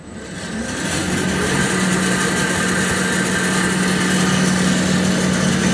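Rockwell 28-3x5 20-inch bandsaw with VFD controls, its motor ramping up from quiet and settling into a steady, loud, continuous hum and whir.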